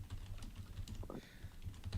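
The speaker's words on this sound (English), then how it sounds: "Hang on, typing here." Fingers type rapidly on a computer keyboard, a quick, close run of light clicking keystrokes over a quiet room hum, with no talking.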